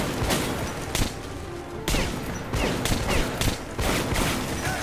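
Rapid bursts of AK-47 fire in the PC shooter Metro 2033 Redux, loud and close, with several volleys separated by short pauses and no talk over them.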